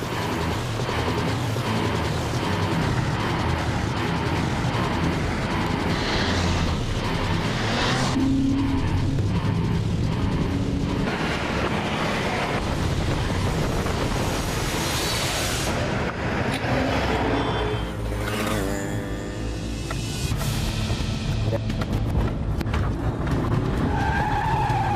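Cars skid and race during a car chase in a crime drama, with continuous loud engine roar, tyre squeal and mechanical rattling throughout, no speech.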